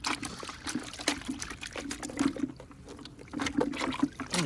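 Warm water runs and splashes over a car part from a modified Buick Grand National as it is rinsed, a steady close trickle and pour with no talking.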